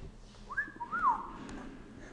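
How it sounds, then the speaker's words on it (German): A person whistles a short rising-and-falling phrase of two quick notes, faint and close, over quiet room hiss. "Warum pfeife ich?"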